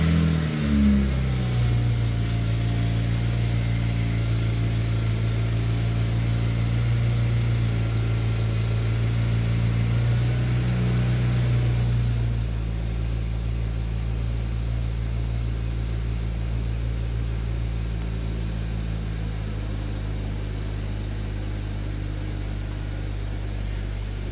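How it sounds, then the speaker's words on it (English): A BMW N54 335i idles steadily and close by after a rear oxygen sensor replacement, with a low, even engine hum. A brief rev and higher whine early on drops back to a smooth, constant idle. "the car's idling quite nicely"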